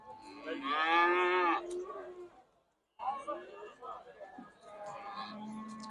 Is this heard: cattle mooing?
yes